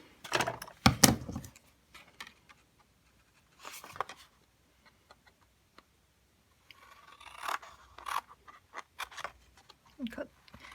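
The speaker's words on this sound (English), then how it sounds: "we're going to cut up each of these lines because they're going to give us our tabs" Scissors cutting along scored lines in card to form tabs, a few crisp snips and papery rustles close by with quiet gaps between, a soft voice now and then.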